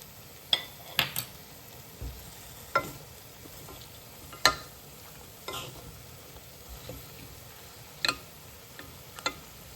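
Onion and green chilli frying in a pan make a faint, low sizzle, broken by scattered sharp clinks and scrapes of a spatula stirring, spaced irregularly every second or so.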